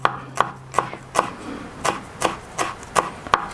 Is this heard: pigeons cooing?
no